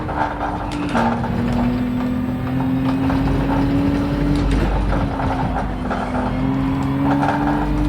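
Race cars in Gran Turismo 7 drone along steadily, a loud continuous engine whine rising and shifting in pitch with gear changes, with a faint mechanical rattle beneath and no talking.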